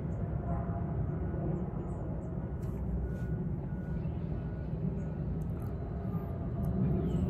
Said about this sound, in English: I'm sure you hear that's Caltrain down there going past the airport.